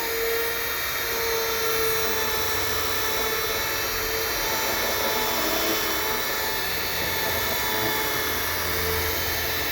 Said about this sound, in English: let the sandpaper do the work, the disc